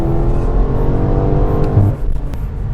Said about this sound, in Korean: 가속 페달을 살짝살짝 밟고 있거든요, 제가.